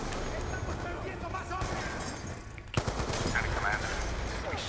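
Gunfire in the Black Ops 2 campaign mission Judgement Day, a fairly faint, steady clatter of automatic weapons under continuous game noise, with one sharper shot standing out and a player's voice talking over it.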